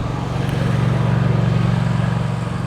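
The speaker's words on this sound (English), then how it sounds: "I hope you guys can hear the golf carts going by" Golf carts drive past on an island road in Bimini, a continuous low motor hum and rumble that swells and fades slightly, fairly loud and close with no talking over it.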